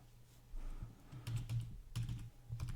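Someone types a folder name on a computer keyboard, faint close clicks in a few short bursts separated by brief gaps, with no speech.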